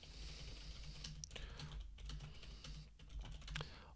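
Computer keyboard being typed on, quick uneven clusters of soft key clicks with brief pauses, faint and close, no voices.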